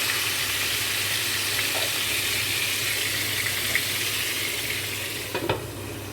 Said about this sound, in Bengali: এই যে আমি যে পটল ভাজা বসিয়ে রেখেছিলাম